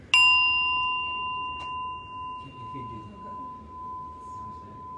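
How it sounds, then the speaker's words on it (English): A meditation bell is struck once to close a session, giving a bright sharp ding that rings on as a long, clear, slowly fading tone, with a faint soft tap partway through and no speech. "Final bell."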